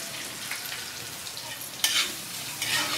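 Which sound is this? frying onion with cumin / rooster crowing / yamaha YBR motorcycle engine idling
frying onion with cumin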